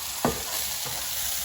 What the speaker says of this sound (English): Now let's mix the zucchini again.